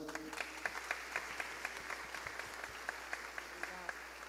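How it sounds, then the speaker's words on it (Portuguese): Warm applause from an audience welcoming Pastor Enoque Vieira at a family talk, a soft, steady patter of many hands with distinct rhythmic claps standing out, while a voice speaks over it. "Eu queria que recebesse com uma calorosa salva de palmas."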